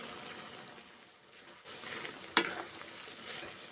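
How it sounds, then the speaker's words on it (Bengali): Mixed vegetable curry seasoned with turmeric and salt fries in a pan, a low sizzle that swells midway, with one sharp clack of a utensil against the pan and no voices. "ভেজে নিচ্ছি এইভাবে"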